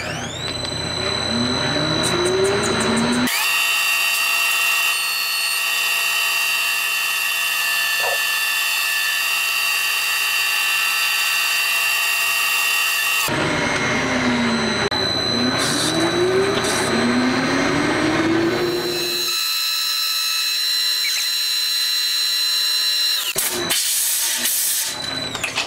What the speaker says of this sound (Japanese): ギアの側面を 1ミリほど削ります。